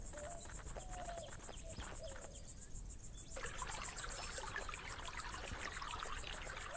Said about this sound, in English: Would you look at that spring?